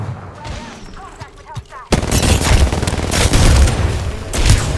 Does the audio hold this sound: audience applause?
no